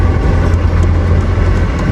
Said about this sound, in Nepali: ल यहाँ बाइक हल्लिरहेछ